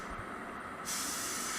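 A spray gun lays clear coat onto a car's lower panels over masking. Faint room ambience gives way to a sudden, steady airy hiss that starts partway through and continues to the end.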